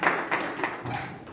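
A church congregation applauding: a patter of hand claps with a few stronger slaps, at a moderate level, like a room of people clapping together.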